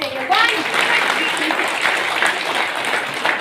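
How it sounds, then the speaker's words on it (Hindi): An audience applauding at an Indian youth festival awards event in Maharashtra, loud sustained clapping from a crowd with a voice speaking over it. "सबकी तालियां एक साथ होनी चाहिए"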